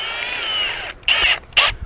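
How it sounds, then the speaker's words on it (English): A power drill with a 1/4 inch bit pre-drilling holes while installing a custom wrought iron gate: a steady high whine for about a second, then two short separate bursts as the bit bites. "Now I'm going to pre-drill my other 2 holes."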